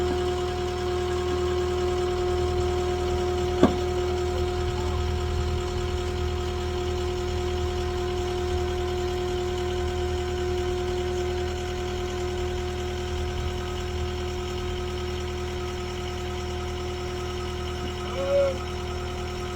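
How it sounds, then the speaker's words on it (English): A skid steer engine runs at a steady idle-like drone throughout, alongside a constant hum, with a brief sharp knock near the start and a small chirp late on; no one speaks. "And then we're going to lift it with the skid steer and back it up."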